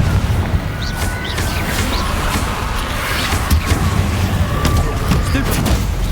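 Confringo blasting spells explode in the Hogwarts Legacy video game as repeated booming bursts amid continuous loud combat noise, with a voice shouting spell names over the fight.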